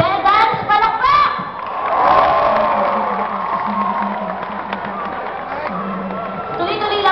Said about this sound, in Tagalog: Bedans, palakpak!